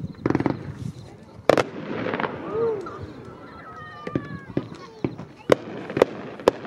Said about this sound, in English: check out JanRock from Red Apple Fireworks, one of their loudest cakes.